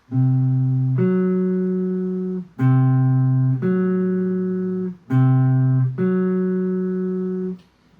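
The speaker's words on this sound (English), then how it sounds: "the tritone, as some of you may already know, hundreds of years ago was called the devil in music" Two tones a tritone apart sounded together, clear and sustained, alternating between two pitch pairs in a slow repeating pattern, each chord ringing then fading.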